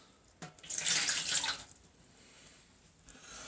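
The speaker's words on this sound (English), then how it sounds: "we're going to put some water in the base of this" About a cup of water is poured into the base of an electric turkey roaster, a brief splashing rush that peaks and then settles into a faint trickle, with no talking.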